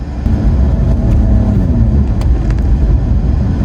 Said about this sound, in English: the BMW 3-cylinder engine that's actually in this thing doesn't sound bad, surprisingly, and that is because it has side exit exhaust